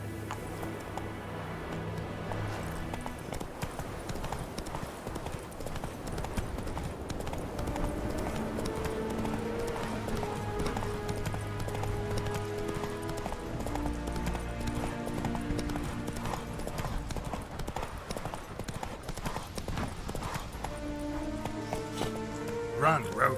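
Roach, a horse in The Witcher 3, gallops with steady rhythmic hoofbeats, a continuous clip-clop running under game music and occasional voices.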